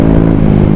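A Honda Airblade 150 scooter with a remapped stock ECU runs at its top speed of about 107, its engine droning loudly and steadily in a close, continuous hum.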